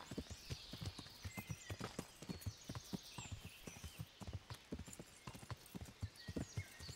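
Horse hooves clip-clop steadily at a brisk walking rhythm in Kingdom Come: Deliverance, the hoofbeats close and distinct over a faint wash of ambient game sound, with no talking.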